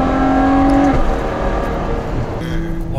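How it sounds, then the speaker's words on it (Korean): A Ferrari 812 Superfast's exhaust roars loud and close, a steady strong engine note with a brief shift in pitch partway through, with no voices. "완전 배기음만으로 내는 소리거든요, 이 차는."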